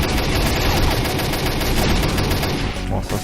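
An ARX-160 rifle fires on an oil rig map in the Combat Arms video game, dense rapid bursts of automatic gunfire that fill the whole clip, loud and close, no voices.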